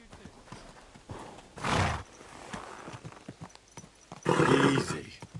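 Horse in the medieval game Kingdom Come Deliverance 2, hooves clip-clopping at a walk in soft, uneven steps, broken by two loud whinnies, one early and one near the end, heard close by.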